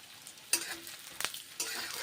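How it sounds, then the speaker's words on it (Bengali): Moong dal fries in smoking-hot mustard oil, a soft steady sizzle with a couple of brief bursts of crackle and a scraping stir, quiet and close. "এখন আমি মুগের ডাল ভেজে নেব"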